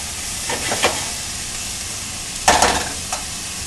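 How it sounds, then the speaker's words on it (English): Vegetables and ginger cooking in a pan, stirred with a heat-proof spatula: a continuous soft hiss and sizzle with a few brief scraping strokes, the loudest cluster near the end, close by with no talking. "Now we're just going to let that cook around a minute until the vegetables get soft."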